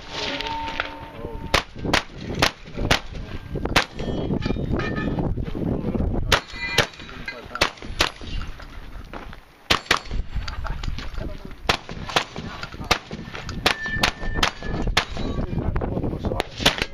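Shotgun slugs are fired at a 3-gun competition. Loud, sharp outdoor shots crack repeatedly at an irregular pace over a steady background, with occasional metallic target clangs and some talk.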